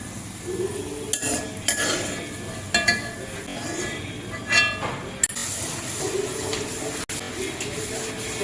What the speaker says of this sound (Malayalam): നാളികേരം അപ്പുറത്തേം കൈ വിടാണ്ട് ഇളക്കണോട്ടോ